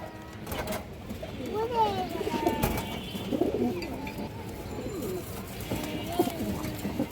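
Pigeons coo repeatedly in soft, rolling phrases at a pigeon sale with white and dark-tailed fancy breeds, while a voice talks over them throughout.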